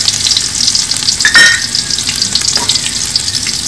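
Bay leaves, cardamom, cinnamon and cloves fry in oil alongside browning onions for chicken biryani, producing a loud, crackling sizzle with a spoon scraping and stirring through it.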